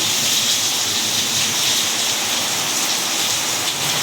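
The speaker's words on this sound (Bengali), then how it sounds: "এই সন্ধ্যায় বৃষ্টি পড়ছে দেখো পুরো ঝিরঝিরি বৃষ্টি পড়ছে" Steady evening rain falls as a dense, even hiss, a constant close wash of drops pattering on surfaces with no break or change across the few seconds.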